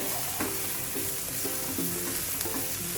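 Carrots sauté in a hot pan with a steady, close sizzle, while a spoon stirs and scrapes in short repeated strokes.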